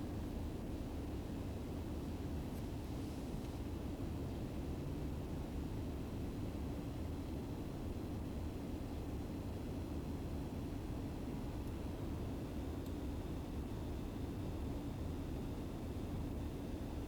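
Steady, loud broadband roar of a spaceplane tearing through the atmosphere on reentry in Kerbal Space Program, a continuous rushing rumble with no distinct individual booms and no voices.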